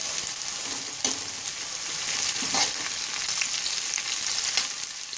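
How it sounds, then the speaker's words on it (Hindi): Golden-brown onions sizzle and fry in a pan with green chillies added for a black chana masala, a steady crackling hiss with occasional stirring clatters, no voices. "प्याज गोल्डन ब्राउन हो चुकी है, अब इसमें हम हरी मिर्च डाल देंगे।"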